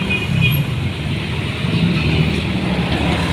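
Steady midday road traffic heard from inside a vehicle, a continuous low engine and tyre rumble with a broad hiss, holding even and moderately loud throughout with no clear talk.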